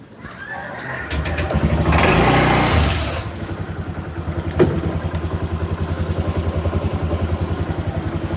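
A motorcycle engine starts up in Thailand, revving loudly for a couple of seconds before settling into a steady, close idle with a pulsing rhythm and a brief clatter midway.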